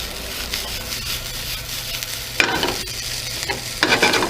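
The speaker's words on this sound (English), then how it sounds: "I have to do a lot of work just to try to smash down the rice so that everything's not stuck together." Fried rice in a hot pan being pressed and broken up with a utensil, giving a steady close sizzle with scraping stirs and louder bursts of frying toward the end.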